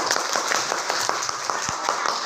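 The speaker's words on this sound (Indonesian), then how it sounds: "kasih tepuk tangan dulu buat semuanya" A classroom of students claps hands together for classmates, a ragged spread of quick claps over murmuring voices and chatter.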